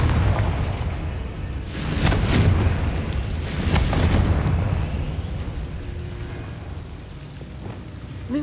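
A Confringo blasting curse in Hogwarts Legacy on PS5 erupts in repeated booming explosions, with loud rumbling bursts around two and four seconds over a continuous crackling, rain-like debris wash that slowly fades.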